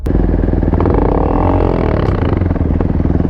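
A quad bike engine at the start line of a race: loud, close, continuous engine roar with a rising, revving pitch through the whole stretch.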